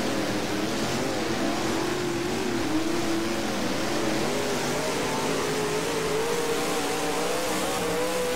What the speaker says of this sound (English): wheel spin in the middle of the back straight